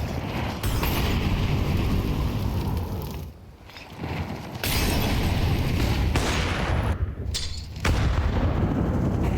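A grenade goes off in a Counter-Strike match at the StarLadder Budapest Major 2025, heard as loud, sustained blasts and rumbling bursts. They fill the stretch, drop briefly twice, then return at full force.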